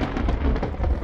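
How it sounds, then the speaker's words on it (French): Rumbling thunder rolls through a deep, continuous low roar as a storm approaches outdoors, with rain-like hiss on top, loud and close in a short burst. "L'orage arrive, on doit vite rentrer se mettre à l'abri."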